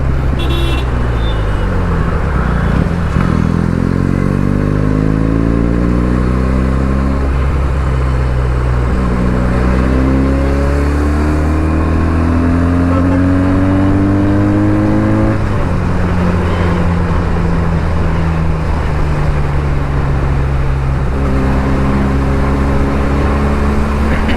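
A Benelli 300i motorcycle engine revs loudly and close, climbing through rising pitch sweeps, dropping back and surging again in repeated acceleration cycles with a strong, buzzy harmonic growl throughout.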